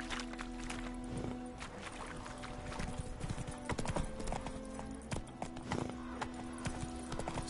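Horse hooves clip-clop at a steady galloping rhythm across Witcher 3 game ground, close and continuous over a low ambient bed of game music and scenery sound.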